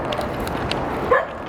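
Dogs barking a short way off in a street setting, a few quick yaps over a steady background murmur, with one brighter yelp near the end.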